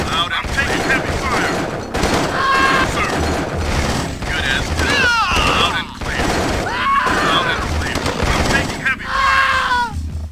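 Heavy gunfire rattles continuously in C&C Tiberian Sun, a strategy game, with dense bursts of shots and explosions filling the battle while radio-style unit voices chatter over the top.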